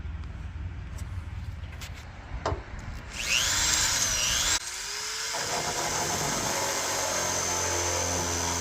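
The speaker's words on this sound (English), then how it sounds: "I'm going to use a step bit to give me an access hole to get in there with the sawzall." Step bit drilling an access hole through the steel quarter panel of a 1969 Chrysler 300, a steady close whine that ramps up after a few seconds of shop noise and runs on continuously.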